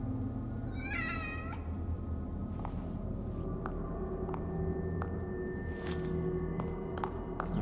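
A cat in the video game TEW The Consequence gives a short run of meows near the start, set against a steady ambient game hum with scattered soft clicks.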